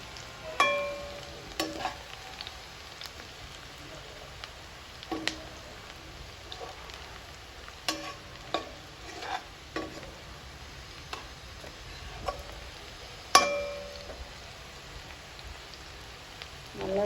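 Onions sautéing in a pan while making fish curry, a quiet steady sizzle with scattered sharp crackles and occasional stirring clicks, no talk.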